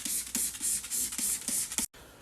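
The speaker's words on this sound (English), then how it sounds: "Now we will spray it down one more time and see how we did." Water sprayed from a spray bottle onto a car headlight during restoration after sanding with 1000 grit sandpaper, heard as a run of short, close, hissing spritzes in a quick rhythm before stopping.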